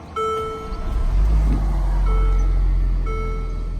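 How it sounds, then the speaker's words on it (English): A Mercedes GLA 250 starts up: a short cranking catch followed by a steady low idle rumble, while dashboard chimes beep in a repeating pattern over the engine, close and clear. "I'm gonna go ahead and start the engine."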